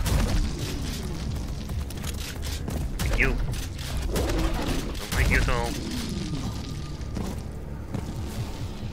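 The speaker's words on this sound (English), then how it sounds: "they threw a couple of shotgun shells to the head and did the job done" Shotgun blasts in the retro-style first-person shooter Prodeus, a few booming shots and explosions among game mechanisms and continuous background music, with people talking over the action.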